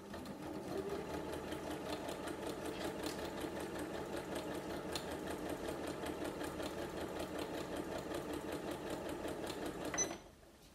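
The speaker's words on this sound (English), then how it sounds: "line the fabric up with the edge of my foot and just sew a straight line" A sewing machine stitches a straight line on fabric for a table mat, a steady fast mechanical chatter close by for about ten seconds, then stopping abruptly.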